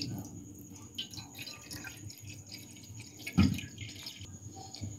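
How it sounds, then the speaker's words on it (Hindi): About half a litre of milk is poured into a cooking pan for an Arabian bread pudding, making a faint, close trickle with soft splashes and drips. "पैन में डालेंगे 1/2 लीटर के करीब दूध"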